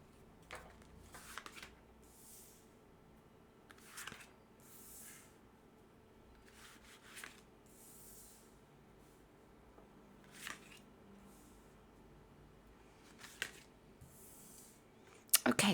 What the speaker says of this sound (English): let's go ahead, first of all, and place these cards down